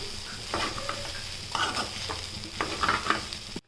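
Rice stirred into fried egg in a hot pan, a continuous sizzle broken by repeated scraping strokes of a spatula, close and fairly quiet.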